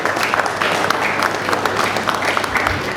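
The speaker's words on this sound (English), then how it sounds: "a round of applause for the High Commissioner of the Republic of Zambia to Nigeria" Audience applause greets Zambia's High Commissioner to Nigeria at the Global Excellence Summit & Awards, a dense steady wash of clapping from a crowd that holds for the whole stretch with no voices over it.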